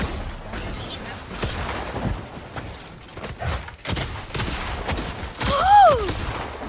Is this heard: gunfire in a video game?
yes